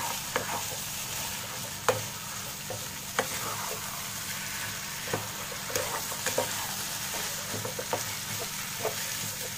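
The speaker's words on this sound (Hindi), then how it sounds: "अच्छे से मिक्स करेंगे पहले।" Aloo keema masala of potato and minced meat frying in a pan as a utensil stirs it, a steady sizzle broken by scattered scraping clicks throughout, with no talk.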